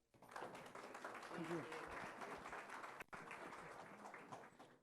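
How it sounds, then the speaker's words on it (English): Sustained audience applause for a keynote speaker at a Women's History Month achievement event, a dense, steady roar of clapping that lasts several seconds with a brief dip near the end. "Please give her a round of applause."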